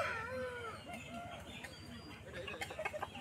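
A rooster at a weekly village fowl market, Feko Haat in Jhargram, West Bengal. It gives short, fairly quiet clucking calls over a faint market background, ending in a few sharp bursts.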